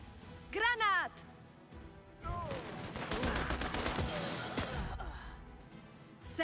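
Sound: gunfire from video game Last Train Home

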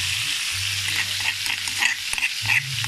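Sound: sautéing pounded chili in a large wok

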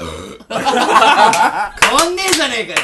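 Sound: burp after drinking a carbonated drink

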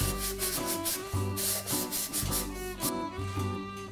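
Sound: sanding a fired porcelain mug

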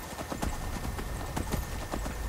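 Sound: horse Shadowmere galloping in the video game Skyrim

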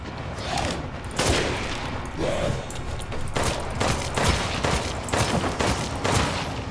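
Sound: grenade launcher firing explosive rounds in the video game Resident Evil Village

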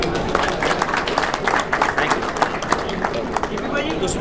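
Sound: audience applause

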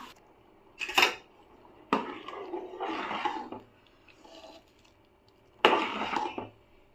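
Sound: lid being put on pot of cooking chicken biryani

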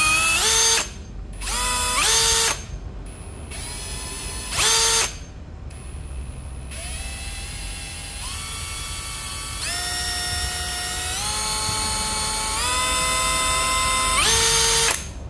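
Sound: Hitachi 18V brushless cordless drill running

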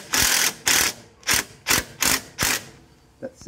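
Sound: bolt being threaded in, slightly cross-threaded

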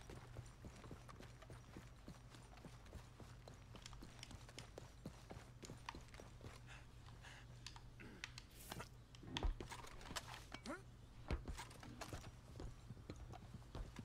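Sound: horse hooves from a video game

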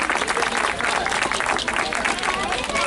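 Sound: applause for the musicians

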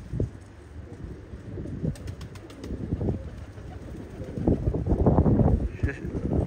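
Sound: pigeons flying and flapping

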